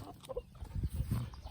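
Chickens and a rooster cluck and mutter close by in a backyard garden, short irregular bursts of hen chatter rising and falling with no talking over them.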